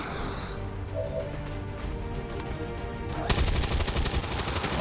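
Rapid gunfire shots in XCOM 2 crackle in a dense burst that grows louder toward the end, with faint game effects before it and no talking.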